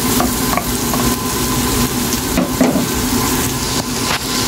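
Tomatoes frying in a pan for sinigang sa miso, loud steady sizzle with repeated scraping stirs and clinks of the utensil throughout, no voices.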